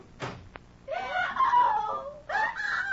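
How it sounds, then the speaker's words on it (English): A woman screams in a 1940s radio drama adaptation of a Dickens tale, with a long anguished wailing cry, a short break, then a second rising scream, close and loud over faint background. "What was that scream I just heard?"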